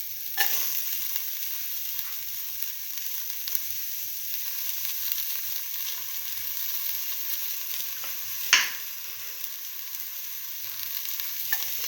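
Ginger frying and being stirred in a pan while cooking mung beans, tomato and rice, with a steady soft sizzle throughout and a few sharp scraping stirs, one louder near the end.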